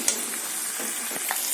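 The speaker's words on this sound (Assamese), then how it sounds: "এতিয়া মই গৰম পানী যোগ কৰিম ইয়াত" Pumpkin pieces fry in a hot pan while hot water is poured in, producing a steady close sizzle with a few soft stirring scrapes and no talking.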